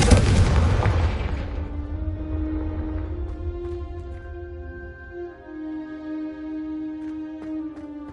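A Confringo blasting spell explodes in Hogwarts Legacy, a single loud burst at the start whose debris noise fades into a long, quiet, ringing tail.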